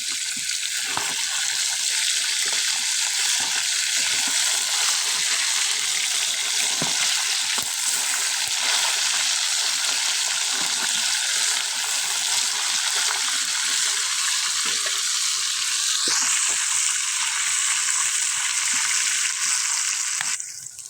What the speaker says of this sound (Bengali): মাছ ভাজা হয়ে গেছে সব।